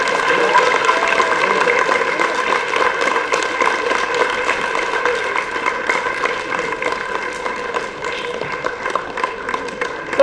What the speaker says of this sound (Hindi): डॉक्टर गुरतेज, जोरदार तालियां।